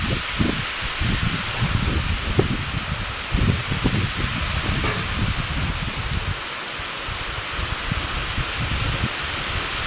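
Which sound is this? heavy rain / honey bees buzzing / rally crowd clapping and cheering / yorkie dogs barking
heavy rain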